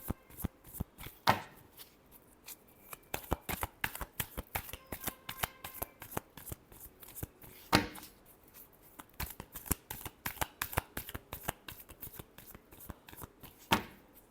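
Tarot cards are shuffled by hand in a quiet room, a long run of crisp riffling and flicking with a few sharper snaps, close and fairly soft, with no voices.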